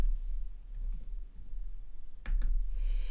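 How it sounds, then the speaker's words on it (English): Mouse clicks while scheduling a Facebook post on a computer, a couple of sharp close taps near the end over quiet room hiss, with a few fainter clicks earlier. "I'm going to go ahead and click on that"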